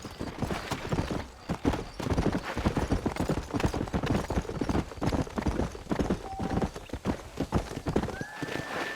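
A horse gallops under a rider in the Western game Red Dead Redemption, with rapid continuous hoofbeats close by, a whinny near the end, and a few brief musical tones over the rhythm.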